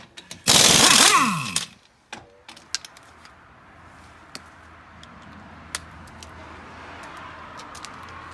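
A pneumatic impact gun on its lowest setting tightens wheel nuts while 1.5-inch wheel spacers go onto a 2019 Polaris Ranger XP1000. One loud rattling burst lasts about a second, followed by scattered clicks and a quiet workshop background.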